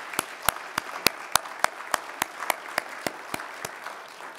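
Sunday school students and teachers at a New Year special dawn prayer service receive applause: sparse, evenly spaced sharp claps from a small group keep a steady rhythm and fade slightly toward the end.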